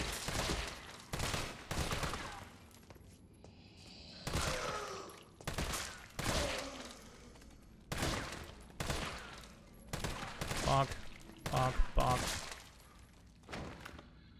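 Gunfire in Resident Evil 3 Remake comes in loud, sharp bursts and single shots spread across the stretch, separated by short quiet gaps, while a player talks in between.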